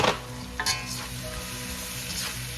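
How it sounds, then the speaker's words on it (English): String beans stir-fried in a hot pan for a pinakbet mixed vegetable stew give a steady, close sizzle, with a short clatter of stirring near the start. "Stir fry them."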